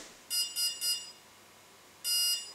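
An RC plane's electronic speed controller, connected to a LiPo battery, gives three quick high-pitched beeps in succession, then after a pause a single longer beep, clear and close against a quiet background.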